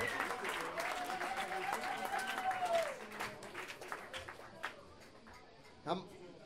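Concert audience applause fills a club venue, dense clapping from a crowd that gradually thins and fades, with a few scattered louder claps near the end, heard alongside voices.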